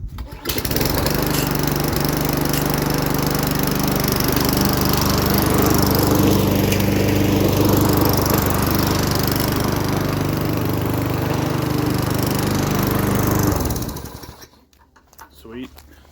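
A homemade custom lawn mower engine pulled into life and running steadily, a loud close buzzing drone that holds for about thirteen seconds before cutting off into quiet clatter.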